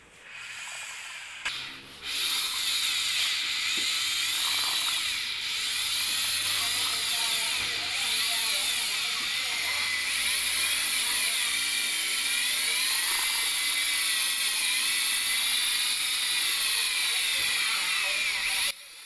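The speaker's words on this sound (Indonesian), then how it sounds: "setelah itu kita aduk secara perlahan dengan mesin bor" A power drill with a mixing paddle churns lightweight Hebel brick adhesive into water, a steady close whirring grind that starts after a brief pause and runs continuously, rising and falling slightly as the mix thickens.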